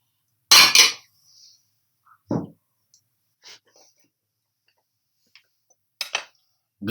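Ordinary glass bowls and dishes clink and tap as they are handled, in a few sharp, separate knocks with quiet gaps between them, and a voice is heard speaking faintly.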